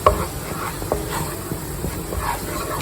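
Wheat flour fries in ghee for Ashoka halwa, a soft steady sizzle with faint scraping and stirring taps, close and continuous with no talk.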